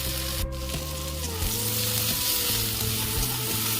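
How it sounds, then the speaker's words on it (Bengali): Okra (bhindi) fries on high heat with tomato, a dense, steady close sizzle with crackling and a few stirring clacks throughout. "এখন গ্যাসের আজ বাড়িয়ে দিয়েই ভাজা ভাজা করে"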